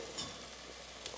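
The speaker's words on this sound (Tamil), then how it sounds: "கூடவே காளான் சேர்த்துட்டு நம்ம ஒரு 2 நிமிஷம் வதக்கிக்கலாம்" Mushrooms being sautéed in a pan for biryani, a faint, steady sizzle with a couple of soft stirring scrapes over a short stretch.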